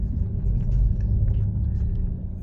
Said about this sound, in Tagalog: Nasa taas kami, sa baba yung mga sasakyan.